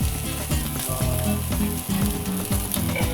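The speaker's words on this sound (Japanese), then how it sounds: "あとは4面同じように焼いていただきます" Beef rolls wrapped around checkered konjac sear in a frying pan with a loud, continuous sizzle and crackle, broken by a few soft knocks and shuffles as they are turned, with no talking.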